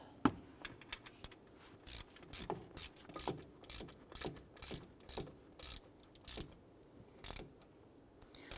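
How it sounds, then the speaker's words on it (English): Ratchet tightening the alternator bolts on a 2011-2018 Ram 1500 pickup, rapid clicking pawl in short repeated strokes with brief pauses, close and fairly quiet. "Let's go ahead and tighten down the 2 alternator bolts."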